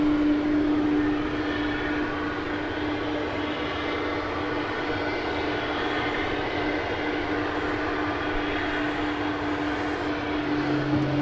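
Tri-jet airliner pushing back at night at DFW Airport: a steady, loud broadband jet engine roar and whine holds throughout with no break, with no voices over it.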